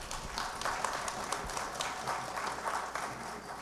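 An audience at a cannabis nursery industry panel event in Sacramento applauds the panelists, giving a fairly quiet, steady patter of many hands clapping at some distance, with no speech.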